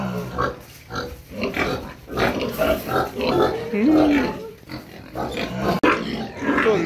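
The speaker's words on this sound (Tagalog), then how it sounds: "Ito talaga baboy na mo." Pigs, including a sow, grunting and squealing continuously at close range on a farm in Botolan, Zambales, with someone speaking over the snorting animals.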